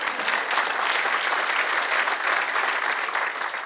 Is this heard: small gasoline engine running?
no